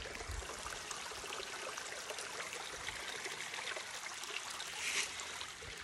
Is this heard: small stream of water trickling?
yes